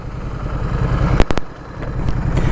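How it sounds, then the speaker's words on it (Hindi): Motorcycle engine idling, heard from inside a closed full-face helmet, a muffled steady low rumble with a few sharp clicks partway through, continuous and close. "मैं बाइक स्टार्ट करता हूँ"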